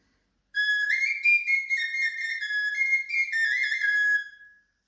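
A short folk pipe (fujarka), one of two pipes built into a walking-stick instrument, plays a bright, breathy whistling melody of several connected notes for about four seconds, close and alone.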